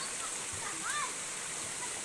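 Children wade and splash in cold stream water outdoors, with a steady rush of flowing water and a brief splash near the middle. Faint voices come through underneath.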